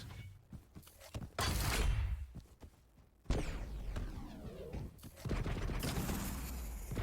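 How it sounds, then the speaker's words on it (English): Gunfire whizzes and cracks through a Quake Pro League deathmatch, arriving as dense bursts of shots and weapon noise in loud surges with brief lulls between them. "Shots whizzing by."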